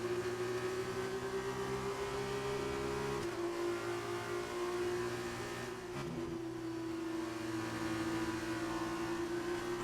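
An F2 race car engine in the F2 2019 game drones at high, steady revs along the Mistral straight at the French round, with brief dips at gear changes around the third and sixth seconds.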